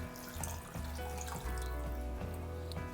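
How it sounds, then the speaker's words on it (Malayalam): Water runs from a tap into a cooking pot for pasta, a steady soft stream with faint gurgling throughout, quiet and close. "ഇതിലേക്ക് നമുക്ക് വാട്ടർ ആഡ് ചെയ്യാം കേട്ടോ."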